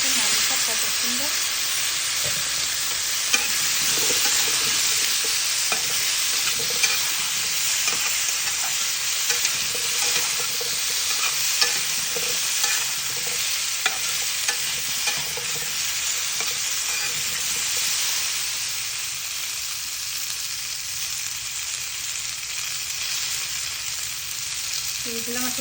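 Potatoes frying in oil with bay leaves give a loud, continuous sizzle and hiss with faint stirring clicks over about twenty-five seconds, and a voice occasionally talks in the background.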